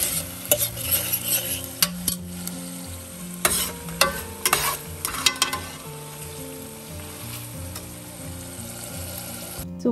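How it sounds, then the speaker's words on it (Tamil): Onions, tomatoes, ginger and garlic sauté in hot oil for salna, a continuous sizzle broken by repeated scraping and clanking of a spoon stirring against the pan, close up. "வெங்காயம் தக்காளி போட்டுட்டு இஞ்சி பூண்டு போட்டு நல்லா வதக்கிடணும்"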